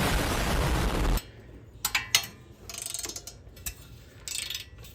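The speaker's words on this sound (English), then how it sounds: "I mean, this is a longer ratchet, but look at the ease" A long ratchet loosens an old, long-stuck bolt on a truck, giving a few sharp clicking bursts after a loud opening noise, then quieter intermittent ratcheting clicks close by.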